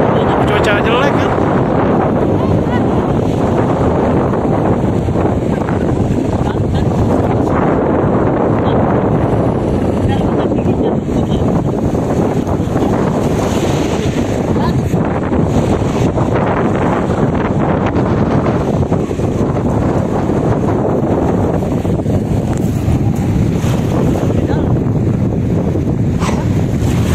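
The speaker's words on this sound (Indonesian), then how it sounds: "Ombaknya gede loh. Kayak namanya lagi cuaca jelek kan." Big waves crash and surge along the coast in rough, bad weather while strong wind buffets the microphone with a loud, constant roar.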